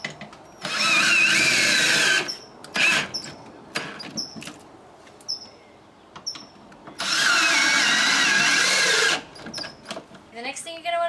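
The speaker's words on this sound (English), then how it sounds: "you can drill them in" Power drill driving lag bolts into 4x4 wood, two loud sustained whirring bursts of about two seconds each, with clicks and handling knocks between them.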